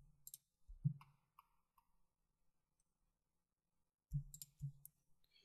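A few quiet computer mouse clicks from selecting images in a WordPress storefront setup on Windows, an isolated pair early then a tight cluster of clicks near the end, with silence in between.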